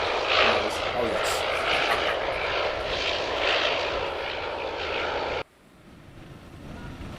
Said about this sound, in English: So here we have the Queen of the Skies coming in.